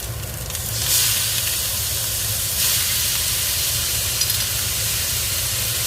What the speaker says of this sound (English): Cook the wine through till it's dry.